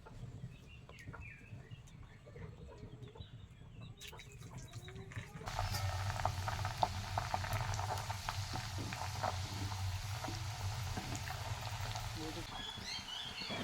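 Jackfruit pieces dropped into hot coconut oil in a kadhai for Konkan-style wafers start sizzling about halfway through, a steady, fairly loud frying hiss that continues to the end over a faint low background.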